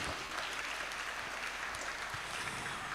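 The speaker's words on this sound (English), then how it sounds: "A big round of applause for the entire team," An audience at a school event, Hungama 2025, gives a team a steady round of applause, a continuous even wash of many hands clapping that sounds fairly distant.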